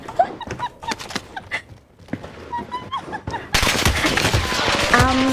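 Video game gunfire: sharp shots and rapid bursts mixed with other game sounds, growing into a denser, louder stretch of firing toward the end.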